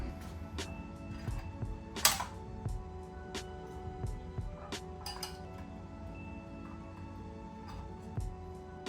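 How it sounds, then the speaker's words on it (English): Needle nose pliers peel back the metal retaining-ring tabs on a Triumph Modern Classic headlight, giving scattered small metallic clicks and clinks, one sharper clink standing out, close up with no talking. "I like to grab them with a pair of needle nose pliers and just in a very controlled way, just kind of peel that edge out"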